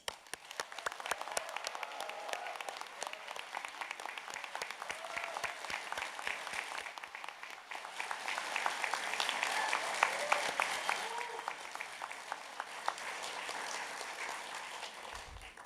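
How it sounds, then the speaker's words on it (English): Sustained applause from the crowd at a university engineering and IT graduation ceremony, steady dense clapping that swells in the middle and carries on for over fifteen seconds with a faint murmur of cheering. "So let's join together in enthusiastic applause and cheers for our new graduates."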